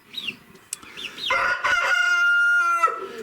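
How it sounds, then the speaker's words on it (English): Backyard chickens with young chicks: soft clucks and chirps at first, then a rooster's long crow rings out loud and close over the flock. "these little chicks in here,"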